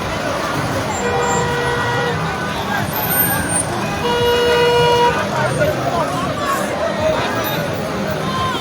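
Dense street traffic in Liberia with repeated car horn toots over a constant roadway rumble, several horns sounding in overlapping bursts with voices faintly mixed into the crowd noise.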